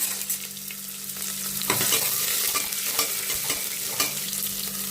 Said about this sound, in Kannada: ಇದು ಸಣ್ಣದು ಸಾಂಬಾರು ಈರುಳ್ಳಿ. ಮೊದಲು ಇದನ್ನ ಸ್ವಲ್ಪ ಫ್ರೈ ಮಾಡ್ಕೊಂಬಿಡೋಣ ನಾವು.